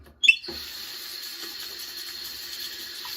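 Water from a tap bursts on with a short splash as a razor is held under it for rinsing, then flows as a steady, close hiss for a few seconds with no speech.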